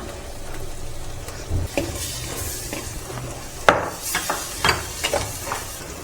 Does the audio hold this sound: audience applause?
no